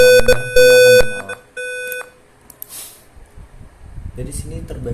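Fire sensor alarm buzzer from a student-built smoke and flame detection circuit, giving loud sharp electronic beeps in short bursts over about two seconds, followed by quieter room noise and faint talk.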